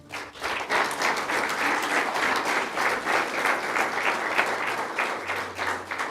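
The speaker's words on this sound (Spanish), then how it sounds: "Dale un aplauso al Señor." A church congregation applauds together, a steady dense wash of many hands clapping at close range, sustained and even for several seconds with no talk over it.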